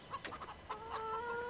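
Hens from a pen of chickens in Farming Simulator 2013 give a few quick clucks, then one drawn-out call holds to the end, close and alone.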